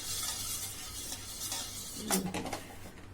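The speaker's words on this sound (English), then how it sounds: "I will be beating up 4 eggs" Four eggs being beaten in a bowl with a utensil, a soft continuous whisking swish with a few brief clinks against the bowl near the end, close and alone.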